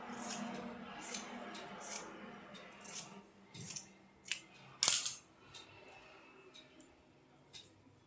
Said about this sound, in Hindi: यहाँ से हम इसको काट लेंगे।